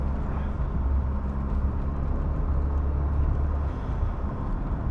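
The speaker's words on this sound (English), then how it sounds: "noise coming from the engine, like a bit like a recirc valve sort of engine noise" A 1988 Lancia Delta HF Integrale engine running with a slight recirculation-valve-type noise, heard as a steady low rumble and hum from the car without much change over several seconds.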